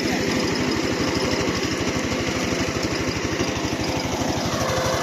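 A Forte 10 walk-behind tractor, converted and fitted with a metre-wide tiller, idles with a loud, close, steady rapid engine putter that never changes.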